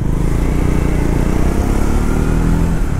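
A Triumph Scrambler 400X with its 400 cc single-cylinder engine runs steadily nearby, a loud continuous low rumble with no voices over it.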